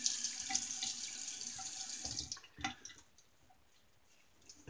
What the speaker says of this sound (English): let me get a quick rinse.